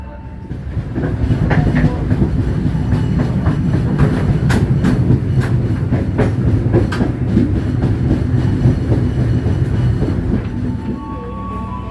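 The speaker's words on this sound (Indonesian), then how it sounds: "Kereta api Airlangga diberangkatkan dari stasiun Jatibarang." The crowded Airlangga passenger train runs steadily on the rails at night, a continuous loud rumble with rhythmic clickety-clack of wheels over joints and occasional faint squeals, heard from on board.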